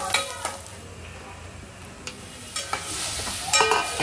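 Spices sizzle and crackle in hot oil for a pickle tempering (phodni), with a few short clinks and scrapes of stirring, fairly faint and heard alone.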